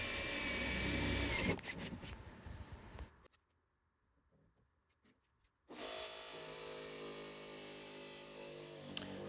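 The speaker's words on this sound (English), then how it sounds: "Use a drill bit big enough to where the jigsaw blade will fit through" A power drill bores a starter hole through the body panel of a van for an RV window opening. There are two loud, steady bursts of drilling, close by, with a quiet pause between them.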